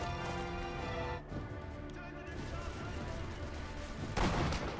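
Machine gun fire in the Sniper Elite V2 video game, heard as dense, rapid bursts of shots with a louder crack near the end, mixed with game ambience and moderately loud.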